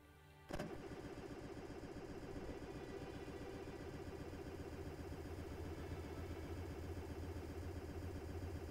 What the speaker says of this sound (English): That has a much heftier engine sound.